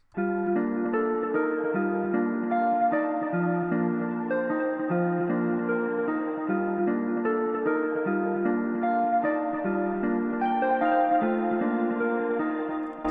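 A bright synth pluck melody from Omnisphere plays alone, short plucked notes repeating in a steady looping pattern, clear and even in loudness.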